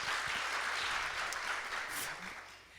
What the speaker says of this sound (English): Can we just get a hand clap for April Ryan?